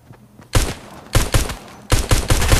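Bursts of gunfire in the video game Fortnite, loud and close, come in three separate volleys of rapid shots with short pauses between them.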